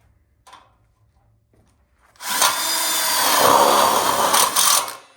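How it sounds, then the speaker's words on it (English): A power drill drives a screw into an outdoor kitchen wrap-around backsplash frame kit, starting after a brief quiet knock and whirring loud and close for about three seconds with a steady, slightly rising pitch before stopping. "now we'll go ahead and put a screw in on each side without it moving"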